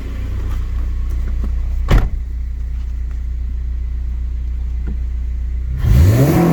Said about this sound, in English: It's not super loud, but when you get on it and that VTEC opens